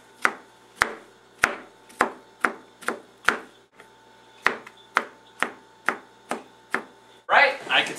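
A knife finely dicing mushrooms on a cutting board with a slow, even run of crisp single chops that ring slightly, close and clear, followed by a brief rustle at the end.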